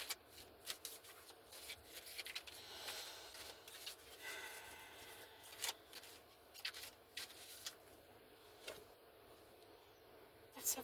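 A deck of oracle cards is shuffled close up, with soft, quiet papery riffles and rubs recurring in uneven bursts, the room otherwise hushed.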